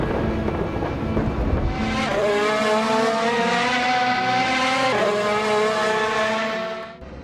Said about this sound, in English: the first road legal car with a proper Formula 1 engine. The Mercedes AMG ONE.